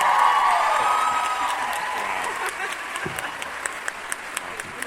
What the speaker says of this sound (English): Can we get like a big round of applause for that?